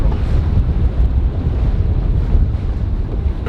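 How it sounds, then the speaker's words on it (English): Speedboat with a huge petrol engine running up the Swale near a nature reserve, a loud continuous low rumble mixed with heavy wind buffeting and water rush, close and unbroken, no speech. "we're just driving a huge petrol engine up it"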